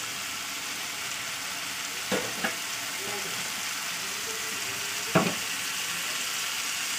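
Meat frying with ginger-garlic paste while being cooked down for a pumpkin and meat kosha, a steady even sizzle with a few soft stirring knocks in the pan.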